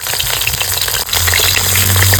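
Rohu fish wrapped in bottle gourd leaves fries in oil in a kadai, a loud, dense, rain-like hiss that continues steadily, with a low hum joining partway through.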